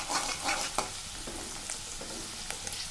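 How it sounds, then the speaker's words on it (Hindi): Onion, chili, garlic and turmeric are stirred as they fry in a pan. A close, continuous sizzle is broken by a few sharp scraping strokes of the spoon, with no talking. "ये हल्दी को अच्छा से मिक्स कर दे रही हूँ।"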